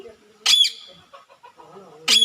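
A parrot gives two sharp, shrill squawks at the start and end, with softer chattering, voice-like talking sounds in between.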